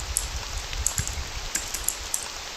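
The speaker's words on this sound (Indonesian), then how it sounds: "mana sepi-sepi ada suara hujan doang" Rain in a pixel-art horror video game, a steady soft hiss of rainfall with scattered sharp droplet ticks and faint low thumps throughout.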